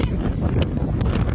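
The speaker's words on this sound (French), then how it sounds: "Désolé pour le vent." Wind buffets the microphone in a low, rumbling roar in Cadiz, steady and close, with no speech.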